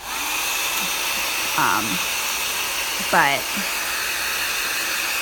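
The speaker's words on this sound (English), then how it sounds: "now I am gonna hit this with a heat gun" A heat gun blows hot air to dry acrylic paint on a Bible page, making a steady, close, even hiss from start to end while a voice briefly speaks over it.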